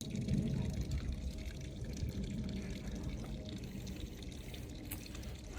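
Water pours steadily out of a house crawl space behind a door, a constant, fairly faint rushing and splashing that runs unbroken, with no talk over it.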